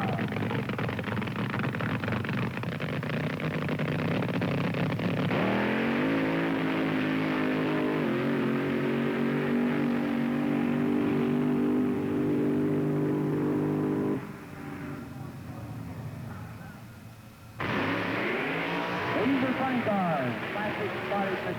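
Blown, injected nitromethane-fueled drag racing engines at the 1971 NHRA Supernationals at Ontario Motor Speedway roar continuously, with pitch shifts and a brief dip before surging back, under steady announcer narration.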